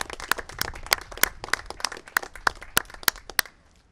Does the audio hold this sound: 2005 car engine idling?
no